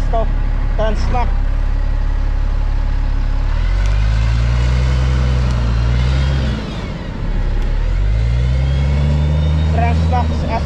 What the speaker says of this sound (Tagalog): Transmac SR, mga bus sa Macau.